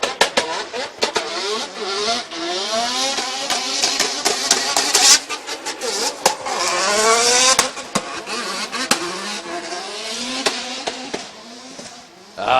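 Mad Mike's Formula Drift Japan competition car at Ebisu revs hard with rapid throttle blips, sharp exhaust pops and crackles, and tire squeal, loud and close, with the engine note rising and falling throughout.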